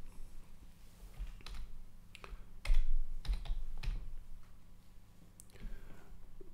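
Typing on a computer keyboard while writing JavaScript code: scattered clicky keystrokes in irregular bursts, close and moderately loud, with a brief louder cluster midway and no talk.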